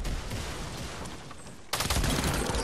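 FAMAS rifle fire in a shooter game rattles off in rapid bursts, a dense crackle of close automatic shots that swells louder in the final second.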